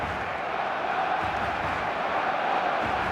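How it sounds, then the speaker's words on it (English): Stadium crowd in the eFootball video game, a dense, steady roar of many voices filling the background at an even, moderately loud level with no distinct cheers or breaks. "the crowd level has gone up a notch or 10"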